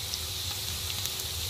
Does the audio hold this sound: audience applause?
no